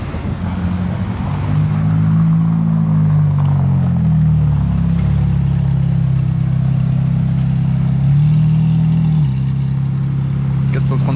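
Cars drive through Paris, a loud, close engine drone with slow revving that rises and falls, steady traffic rumble running throughout, a voice talking over it.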